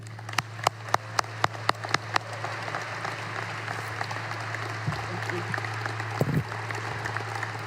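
A few sharp claps ring out at a steady pace, then give way to a continuous wash of crowd applause with a low hum underneath, at a governor's business announcement event in Little Rock, Arkansas.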